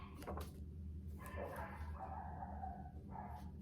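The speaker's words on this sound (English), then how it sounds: "I don't know why my dogs are going crazy right now." Several dogs bark and yip indoors at moderate distance, a few short excited outbursts spread across a low, steady background hum.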